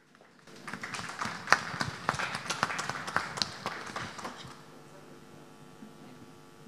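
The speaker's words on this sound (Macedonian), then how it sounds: "Аплауз ќе ве молам за нашиот Штипски Гердан" An audience at a Macedonian talent show claps for the act Shtipski Gerdan, a crisp applause that builds quickly, peaks with sharp individual claps, then tapers away.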